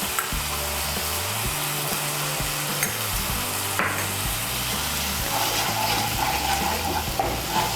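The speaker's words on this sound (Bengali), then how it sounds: "সমস্ত মশলাগুলোকে মিশিয়ে নিয়ে মশলাটাকে ভালো করে কষিয়ে নেব।" Spice paste with ground tomato and salt frying and being stirred in a pan, a steady sizzle running throughout with repeated scraping strokes of a spoon, fairly close and with no talking.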